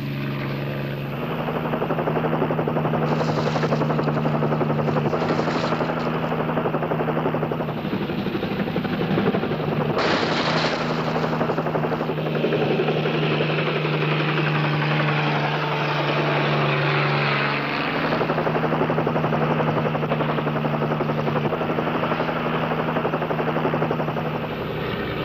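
A helicopter drones steadily and loudly throughout with a constant rotor hum and engine whine, circling close overhead with no voices.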